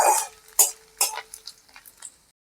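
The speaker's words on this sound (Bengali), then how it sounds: "আদা কুচিটা একটু ভাজা ভাজা হয়ে যাবে" Chopped ginger is stirred in oil in a pan, a series of sharp utensil clatters and scrapes against the metal that grow softer and more spaced before stopping.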